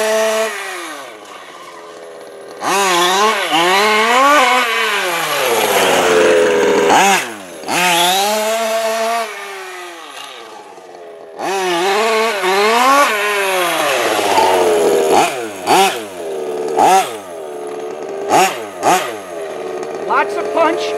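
Motorbike with a 22-tooth pinion revving hard in repeated bursts, engine pitch climbing and falling as it accelerates and lifts the front wheel, loud and close, with short throttle blips near the end and pauses between runs.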